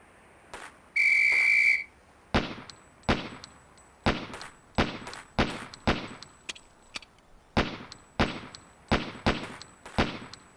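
A referee-style whistle in the police tactical shooter game Police Quest SWAT blows once, sharply, near the start, then a string of evenly spaced, loud pistol shots rings out on a firing range.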